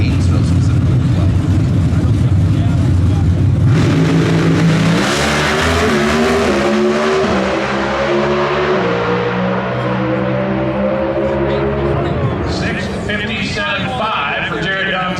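A Pro Stock drag race car launches hard down the track at the NHRA Winternationals, its engine roaring loudly at the start and then climbing through rapid gear shifts before fading as it pulls away. A commentator talks over it.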